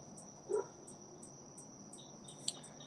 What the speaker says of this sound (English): Probably hear the crickets